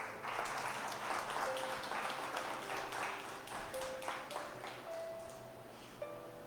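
A church congregation applauds, a sustained wash of many hands clapping that fills the room at moderate volume before thinning out, with faint tonal pings from a keyboard or instrument sounding through it.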